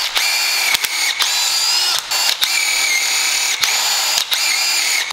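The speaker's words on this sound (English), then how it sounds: "I'm going to just clean the bolts off. get all the Loctite off from the factory so that we can re-Loctite those bolts." Power tool, likely a drill with a wire brush, cleaning factory Loctite off Harley-Davidson suspension bolts; a loud, close, high whine broken by several brief stops and restarts.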